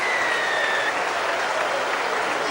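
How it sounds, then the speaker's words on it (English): Rugby league crowd at a St Helens versus Wakefield match applauding a St Helens try, a steady wash of dense clapping from a large stadium audience, heard without talk. "Draws applause from the crowd"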